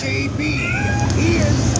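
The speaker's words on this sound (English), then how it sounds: "if you hear a meowing, I apologize. My cat's in heat" A female cat in heat meows loudly and close, a drawn-out wavering yowl with sliding pitch, continuous across the short stretch.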